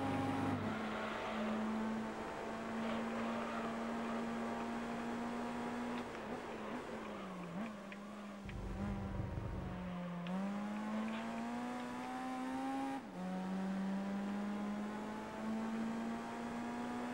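A race car engine in Gran Turismo 3, in an Altezza Championship race, drones loudly with a steady whine that rises through the gears, dipping at shifts and around corners, continuous and close.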